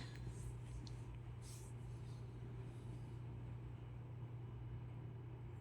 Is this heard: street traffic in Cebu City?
yes